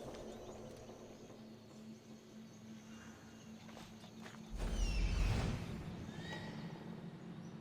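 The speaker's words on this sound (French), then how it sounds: "C'est mon cheval qui est rentré dans le camp" A horse whinnies close by, with soft hoofsteps on the ground as it walks into camp in Assassin's Creed Odyssey, over faint ambient outdoor noise and distant birds.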